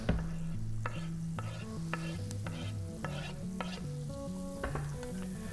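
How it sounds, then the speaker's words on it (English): Shallots sizzling in butter in a pan, a steady close fry punctuated by regular scraping strokes of a spoon moving them around, with no talking. "just letting those shallots kind of just move in the pan and just start to kind of caramelize"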